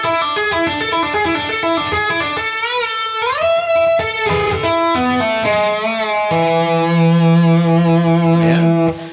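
Distorted electric guitar plays a tapped melodic arpeggio lick with wide intervals, bends, slides and vibrato, ending on a held note, loud and alone.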